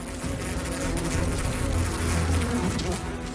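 A dense, loud swarm of honeybees mobbing a giant hornet, buzzing continuously, a thick droning hum with no pauses.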